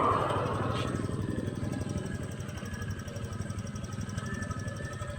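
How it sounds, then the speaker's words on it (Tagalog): A Honda Click motor scooter idles steadily up close, just restarted after a relay fix, its fast even engine pulse running throughout under faint talk. "Ayan, umandar na yung motor."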